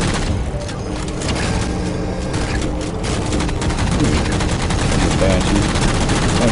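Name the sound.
gunfire in the video game Halo 4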